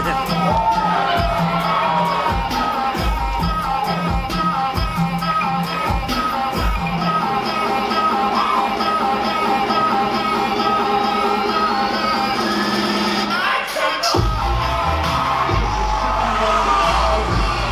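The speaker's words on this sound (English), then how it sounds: "Can barely hear myself talk right now as the crowd has erupted" Wrestling crowd at a live show erupts in loud sustained cheering, yelling and whooping, a dense roar with sharp bangs and thuds from the ring, continuous and overwhelming with no quiet moments.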